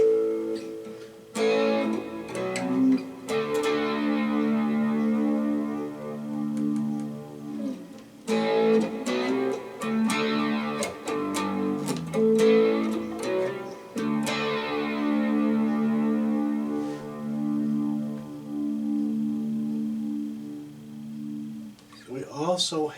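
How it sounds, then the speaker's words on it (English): Electric guitar through a Positive Grid Spark 40 practice amp with AC boost overdrive and tape echo delay, chords ringing out and repeating in fading echoes, loud and close with short pauses between phrases. "Delay, we have some echo tape."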